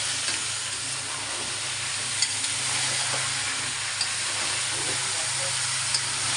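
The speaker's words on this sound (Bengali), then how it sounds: "সুন্দর করে এইভাবে ভেজে নেবে।" Chicken and red radish fry in a pan with a steady, dense sizzle and occasional stirring knocks, close and continuous with a faint voice underneath.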